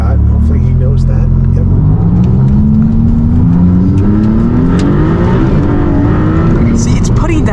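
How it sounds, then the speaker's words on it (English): A 2022 Maserati MC20 Italian supercar engine revs loudly and accelerates hard, its pitch climbing steadily through the gears with quick dual-clutch shifts, droning continuously close to the cabin. "The throttle response, the engine revving, the transmission shifting."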